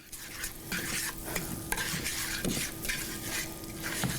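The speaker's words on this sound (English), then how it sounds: "so the sugar is melting here with the butter" Sugar melting with butter in a pan, stirred as it cooks: a close, bubbling sizzle broken by repeated scraping strokes and light clinks, steady and fairly quiet throughout.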